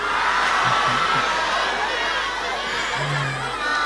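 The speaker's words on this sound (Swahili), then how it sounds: "Pigia watu makofi." A large crowd at an ODM political rally in Kenya, with a dense continuous roar of cheering, chatter and scattered whoops, loud and steady throughout, and voices rising within the din.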